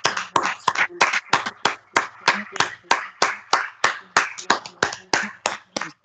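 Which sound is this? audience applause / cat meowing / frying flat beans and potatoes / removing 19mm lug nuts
audience applause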